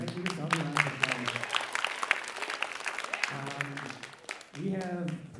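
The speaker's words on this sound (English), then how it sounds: "Give yourself a round of applause." Students in a school writers' event applaud themselves, a scattered burst of clapping mixed with overlapping voices and cheering, moderately loud.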